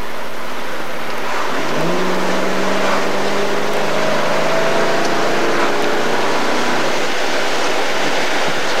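Cockpit of a 1996 Camaro while driving at moderate speed: loud steady road and wind roar with engine drone rising in pitch as it accelerates, continuous throughout.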